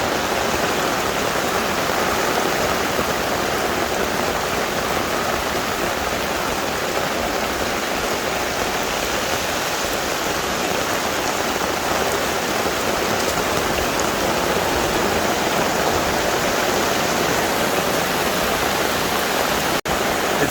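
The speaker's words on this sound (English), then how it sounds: "Yeah, it's like a storm out here." Heavy rain storm in Samoa pours down continuously, a dense, loud hiss of water drumming on surfaces with no letup.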